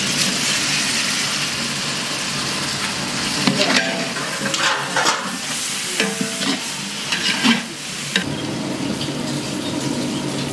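Tomatoes stirred and fried in a pan of oil while cooking a meat curry for idli, a steady close sizzle with scraping and clattering stirs of a spoon against the pan.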